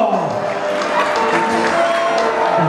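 Crowd applauding and cheering at a Carnevale gathering in Cesano Maderno, continuous clapping with shouts and chatter layered over it, moderately loud and close.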